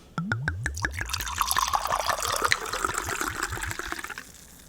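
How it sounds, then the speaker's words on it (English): Wine glugs from a bottle into a glass, a rapid run of rising gurgles that starts abruptly and flows steadily for about four seconds, close and fairly loud, then tapers off. "Time for the pour."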